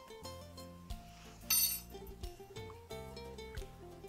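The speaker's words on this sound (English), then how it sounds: "And then stir all these ingredients together." A spoon clinks and scrapes against a pot while quinoa pilaf ingredients with bay leaf and dried thyme are stirred, giving quiet, irregular metallic taps and a brighter knock midway.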